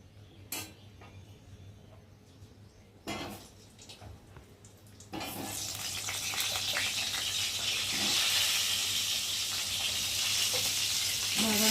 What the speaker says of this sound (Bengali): এবার আলুগুলোকে ওই তেলের মধ্যে ভেজে নেব